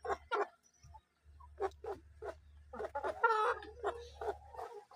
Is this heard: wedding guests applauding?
no